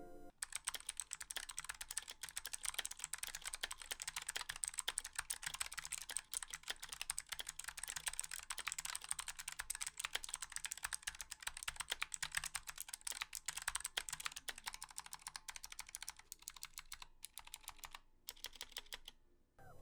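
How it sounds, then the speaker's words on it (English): Steady, fast typing on a Razer Huntsman keyboard with optomechanical switches, dense clattering keystrokes continuing nonstop and close up for about twenty seconds before thinning out at the end. "The Huntsman uses Razer's optomechanical switches, and just for fun, here is a quick sound test."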